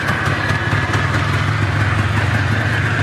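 A warm Polaris two-stroke ATV engine idling after a pull start, with a steady, buzzy, close putter and a slightly uneven rhythm, heard alone.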